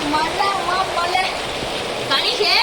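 Heavy rain pouring down outdoors at a home in Tamil Nadu, a loud, dense, steady rush of water close by, with a person talking over it.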